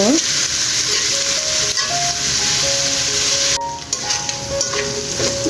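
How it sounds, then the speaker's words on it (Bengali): Chopped pieces frying in oil with garlic, a loud steady sizzle with stirring scrapes and clatter, continuous throughout. "এখন কুচিগুলো দিয়ে দিচ্ছি কুচিগুলো কিছু সময় একটু তেলের সাথে ভেজে নেব"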